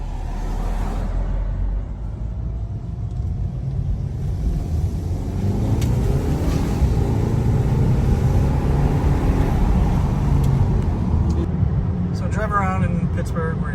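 A VW GLI drives up a hill in Pittsburgh. Its engine rumbles low and steady and grows louder partway through, and speech runs over it.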